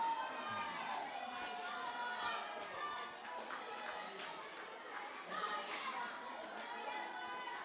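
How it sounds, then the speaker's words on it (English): Students in a crowd cheer and shout at an interschool Minecraft build challenge, a busy ongoing mix of young voices and excited chatter. "There is non-stop cheering coming from our tauira in the crowd today."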